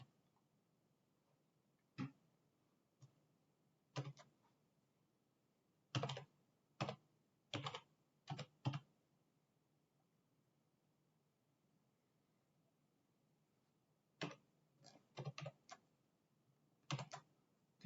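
Computer keyboard typing code, quiet close clusters of key clicks in short bursts separated by long silent pauses.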